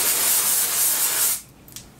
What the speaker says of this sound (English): I usually just spray it in the roots and then lift up and spray up underneath as well